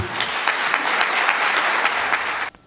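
Steady, loud applause from an audience right after a speech at a press event, a dense continuous clatter of many hands that stops abruptly near the end.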